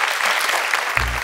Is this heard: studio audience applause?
yes